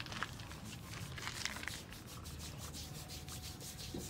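Hands rubbing Tongan tui tui oil treatment into skin, a continuous close dry rubbing and scrubbing texture that runs steadily throughout, with no talk.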